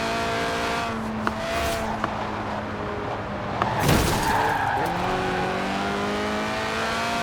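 A high-revving Lotus Elise 1.8-litre engine in a racing video game drones steadily with harmonic whine, rising to a sharp peak near the middle as it screams past, then settling back to a constant rev.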